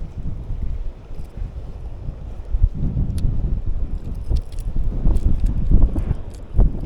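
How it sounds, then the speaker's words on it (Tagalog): Strong wind buffets the microphone in gusty, uneven bursts on an open shore where giant trevally are fished, with low rumbling surges building and easing throughout and no voices. "Lakas ng hangin."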